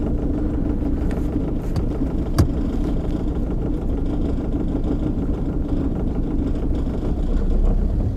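A 2003 Johnson 70hp four-stroke outboard idling out of gear in warm-up mode, a loud, steady, close engine drone with a single sharp click partway through.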